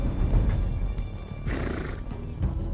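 A horse neighs loudly and close by in the video game Sherlock Holmes: The Devil's Daughter, a shrill whinny with snorts and stamping hooves around it.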